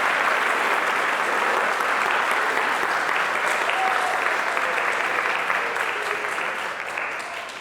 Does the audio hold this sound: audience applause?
yes